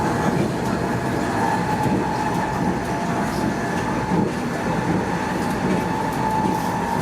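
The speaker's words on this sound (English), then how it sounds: "today I'm on the Maya train, stage 2, going from Campeche to Merida." Steady rumble and rolling roar inside the Maya Train carriage travelling on new track between Campeche and Merida in Mexico, a continuous loud cabin drone with no clear voices.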